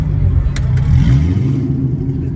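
A red Pontiac GTO drag car with a cowl hood and drag wheels revs its engine at a night car meet, a loud, close, throaty burst that swells and then settles back over a rough idle.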